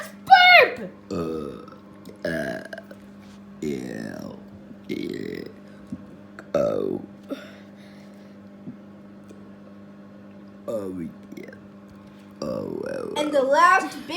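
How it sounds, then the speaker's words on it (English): Several loud burps in a burping contest between Lion King characters, scattered across the stretch in short bursts, with a cluster at the very end and a voice talking among them. "Let's burp!"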